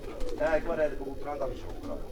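Pigeons coo in a couple of soft, wavering calls at a loft, close and clear over a low background.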